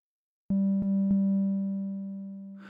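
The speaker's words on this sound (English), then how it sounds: "So there's our sine wave." Steady sine tone from an Ensoniq EPS-16 Plus synthesizer, entering abruptly after a brief silence with a few quick clicks, then holding clear and loud before slowly fading, with a faint noisy burst at the very end.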